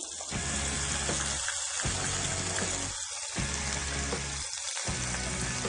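Mushrooms frying in margarine in a pan, a steady loud sizzle that runs throughout with a few short dips.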